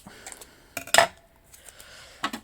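Scissors clink and snip close by in a few sharp metallic bursts separated by quiet pauses.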